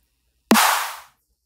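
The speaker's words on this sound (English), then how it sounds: "using a dubstep snare that I made" A dry, unprocessed dubstep snare drum sample, self-made, strikes once: a single sharp crack with a bright, noisy tail that fades over about half a second, alone against silence.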